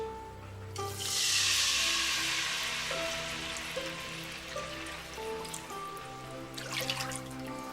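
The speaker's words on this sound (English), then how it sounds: "So we're going to pour in some of our General Tso sauce." General Tso sauce poured over fried chicken thighs gives a wet, sizzling splash and trickle that peaks early then settles into a softer dribble, heard close up with no talking.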